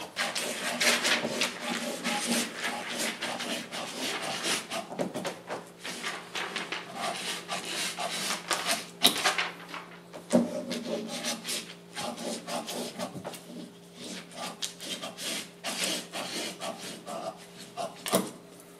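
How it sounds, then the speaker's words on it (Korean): Fabric shears cut through cashmere jacket fabric on a worktable, making continuous rough scraping and snipping sounds close by, with small pauses and occasional light knocks. "자르는 것도 굉장히 중요하기 때문에 지금부터 이제 자르는 걸 한번 보여드릴게요"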